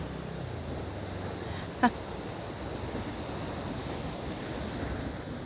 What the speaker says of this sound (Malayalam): ഇത്രയും വലിയ തിരമാലകൾ വരുന്ന കടലാണ് കേട്ടോ